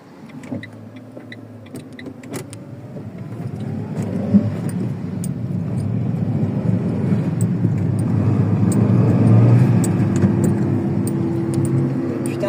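A car engine hums steadily nearby, its low drone gradually growing louder, with occasional faint clicks and rattles.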